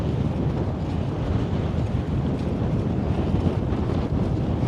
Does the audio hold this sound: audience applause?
no